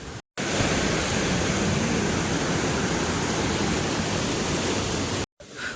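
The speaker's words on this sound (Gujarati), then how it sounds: "આ જો એકલું ગ્લેશિયરનું પાણી આવે છે" Glacier meltwater rushes past at a mountain Mahadev shrine, a loud, steady broadband roar that fills the scene, cut by two brief silent gaps near the start and end.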